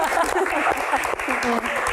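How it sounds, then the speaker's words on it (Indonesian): Dense, continuous studio audience applause on an Indonesian talk show, loud and steady throughout with voices talking over it. "tepuk tangan semangat ini"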